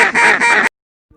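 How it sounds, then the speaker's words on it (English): A duck gives a loud, close, nasal call in three quick pulses, then stops abruptly into silence. "A duck quacks."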